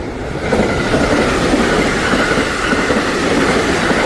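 A train rumbles overhead in Japan, a loud, continuous roar with rhythmic rattling of wheels on track and no talk.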